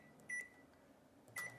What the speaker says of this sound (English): figure out how to use this microwave.